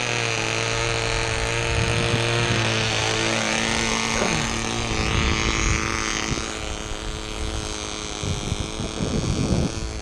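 A Herr Cloud Ranger 1/2A model airplane with an AP 061 glow engine runs steadily outdoors, a loud high-pitched buzzing whine that holds constant, then wavers and shifts as the throttle changes, with some wind buffeting.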